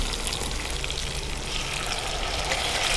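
Tomatoes go into a hot pan of sautéed onions for a breakfast onion sambar, giving a steady, even sizzle that holds at moderate loudness for the whole stretch, with no voices.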